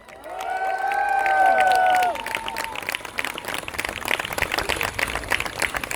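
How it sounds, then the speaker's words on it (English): At an Eid festival in London in 2019, a crowd claps and cheers loudly, with a voice rising over the noise before the applause settles into steady clapping. "let's give a massive round of applause for the non-Muslims here today"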